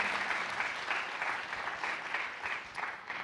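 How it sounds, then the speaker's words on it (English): An audience at a startup demo day applauds in a steady, dense wash of clapping that holds evenly for several seconds with no voices on top. "Please give them a round of applause for their hard work, for their dedication."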